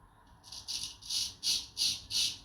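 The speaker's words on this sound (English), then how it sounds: "you might be able to hear in the background the birds chirping because it is spring" Birds chirping in the background outdoors in spring, a series of bright, repeated chirps in regular bursts, fairly clear over a quiet backdrop with no talking.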